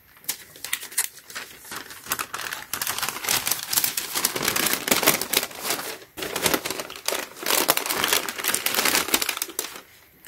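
Tissue paper inside a Nike and Supreme shoe box rustles and crinkles as it is handled, loud papery crackling in uneven bursts with brief pauses, close by and without talking.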